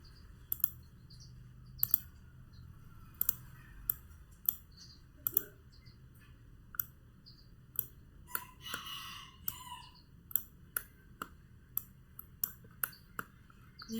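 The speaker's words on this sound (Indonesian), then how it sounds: "Ini mouse-nya sepertinya rusak." Mouse clicks from a computer mouse that seems faulty, a steady run of sharp, close clicks at irregular one-second intervals, some doubled, over quiet room hiss with no talk.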